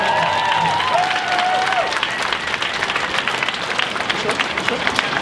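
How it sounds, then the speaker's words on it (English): Dense crowd applause with scattered cheers and a brief whistle-like tone early on, sustained and loud throughout, at a 2020 protest rally in Philadelphia. "Please give them a round of applause as they come up."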